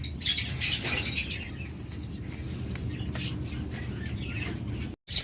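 Several small birds chirp and tweet in high, scattered bursts over a steady low hum, with occasional soft wing flutters close by.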